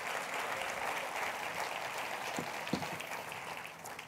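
A church congregation claps together during a Spanish-language family service, a dense and sustained wash of many hands at even volume that holds steady and tapers slightly near the close.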